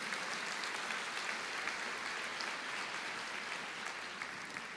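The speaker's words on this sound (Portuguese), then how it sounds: "vamos aplaudir ao Senhor" Church congregation clapping together in sustained, even applause, fairly distant and steady throughout with no voices standing out.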